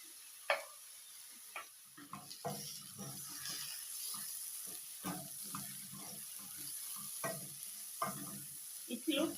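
Tomatoes go into omena fish frying in a hot pan and get stirred, with faint sizzling under repeated scraping and knocking strokes of a spoon against the pan at a steady, uneven rhythm.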